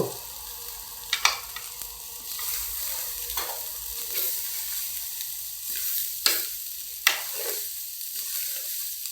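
Mushroom fried rice sizzles steadily in a pan while a spatula stirs and scrapes it, with sharp clinks against the metal every second or two over the constant frying hiss.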